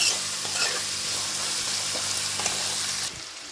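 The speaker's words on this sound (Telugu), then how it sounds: "ఉల్లిపాయ బాగా వేగేదాక ఇవి కూడా ఉల్లిపాయతో పాటు వేగనిచ్చుకోవాలి" Onions with other vegetables fry in oil until light golden brown, giving a steady close sizzle with a few faint scrapes of stirring, then the sound drops off near the end.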